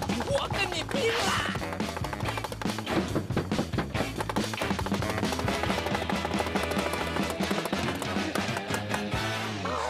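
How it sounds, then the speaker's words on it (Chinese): Rapid, steady chopping of raw shrimp meat with a knife on a cutting board, many sharp thuds in quick succession under prominent background music, with brief talk. "你别把那个菜板给剁烂了"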